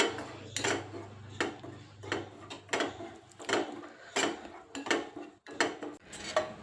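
A spoon works a roasted homemade hair-dye mixture around a hot pan, making repeated scraping strokes and metallic clinks in an irregular rhythm, close and alone.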